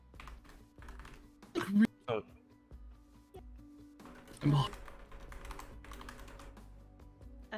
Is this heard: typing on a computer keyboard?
yes